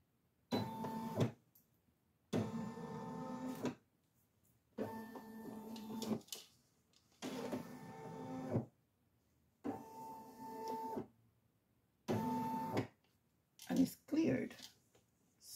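A Brother SE1900 embroidery machine traces a design outline in repeated motorised whirring bursts, each lasting about a second or two and separated by short quiet pauses. The sound is close but fairly faint.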